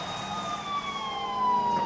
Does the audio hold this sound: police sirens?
yes